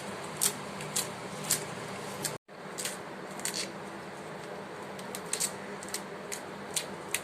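Sweet corn kernels are stripped off the cob by hand, giving dense, close, dry crackling and snapping bursts that run steadily with no one talking.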